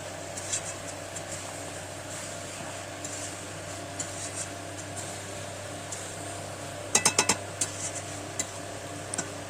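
A metal spoon scrapes and stirs chicken curry with potatoes in a frying pan, soft and close, with faint sizzling underneath and a quick cluster of sharp taps against the pan near the end.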